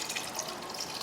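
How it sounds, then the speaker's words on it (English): Water, a cup and a half, poured into a soup pot while making roasted tomato bread soup, heard as a brief, steady splashing trickle. "We'll add a cup and a half of water."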